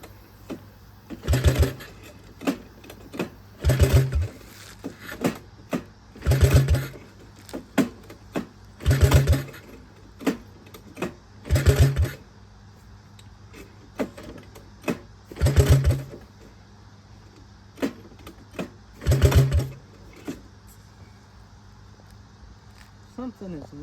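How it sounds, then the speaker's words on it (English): A Honda ATC 185 three-wheeler engine is cranked over and over without starting while it is not getting fuel, giving a string of evenly spaced mechanical bursts every couple of seconds, each loud and close. "Let's go ahead and spin her over, I guess."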